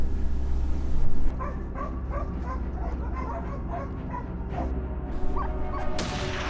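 Hunting dogs during a wild boar hunt in Texas bark and yip in quick, uneven bursts at mid distance, with whimpering mixed in over a constant low rumble of background noise.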